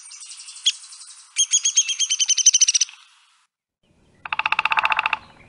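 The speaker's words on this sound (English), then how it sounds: "So for their call, they make that high kind of peak sound and then a little rattling as well." A woodpecker calls close and clear: a high, sharp note followed by quick rattling bursts of rapid repeated pulses, then a pause and another short rattle, with no voices.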